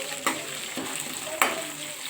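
Curry leaves and crushed garlic fry in hot oil with a steady, close sizzle, punctuated by two sharp spatula knocks against the pan.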